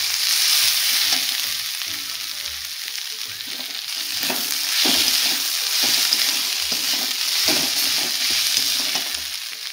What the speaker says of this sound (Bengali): আদাটা দিয়ে একটু নাড়ছি।